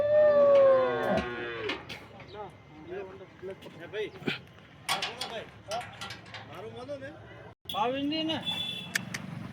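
Several cows moo in a Porbandar cattle shed where pregnant and newly calved cows are led inside, long tonal calls rising and falling throughout, with people talking nearby.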